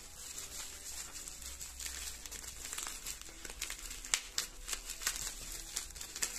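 Sticky tape being peeled off a mail envelope holding Yu-Gi-Oh cards, a close run of crinkling, ripping rasps that grow sharper and more frequent toward the end.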